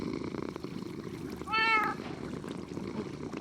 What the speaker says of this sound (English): Yay, the cat's laying down!